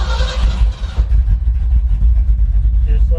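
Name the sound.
1967 Mercury F250 truck engine starting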